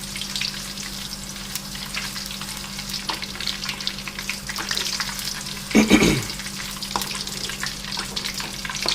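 Whole cardamom, coriander seed, cinnamon, fennel and cumin roast in a karahi with a continuous close sizzle and crackle; a louder hissing burst flares briefly near the end, and no one speaks.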